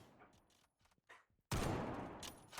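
Rapid burst of video-game gunfire in a Roblox football match, a loud dense volley erupting after a stretch of quieter clicks and mechanical sounds, then sustained to the end.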